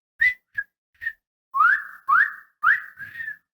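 A person whistles nearby, first three short chirps and then four longer rising and falling notes, clear and alone.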